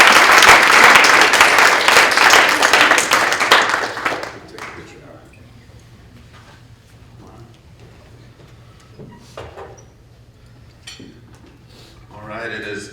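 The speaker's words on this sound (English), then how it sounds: "Please join me in applauding Mr. Bunton." Luncheon audience at an awards keynote applauds recipient Mr. Bunton, loud dense clapping that fades out after about four seconds, leaving scattered claps and faint room noise before a brief swell near the end.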